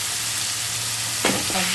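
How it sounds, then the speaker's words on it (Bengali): Cut taro, potato and drumstick pieces fry in a pan of hot oil, a close steady sizzle with a brief scrape of stirring near the end, no talking. "আমি সবজিগুলো এবার ভেজে নেব"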